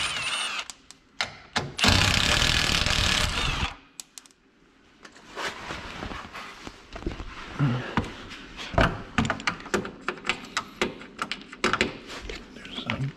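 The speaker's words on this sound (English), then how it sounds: "I'm gonna start by taking off the rear section of the skid plate." Tool work on the rear skid plate of a Yamaha YXZ 1000R, with a long loud burst of power-tool whir followed by a run of sharp clicking and clattering of bolts and tools up close.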